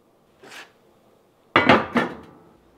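Homemade biscuits flipped in a pan on a wood stove: one faint knock, then a louder pair of metallic clanks of a utensil against the pan, close by and otherwise quiet.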